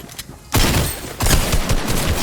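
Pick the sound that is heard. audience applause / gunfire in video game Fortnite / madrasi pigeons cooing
gunfire in video game Fortnite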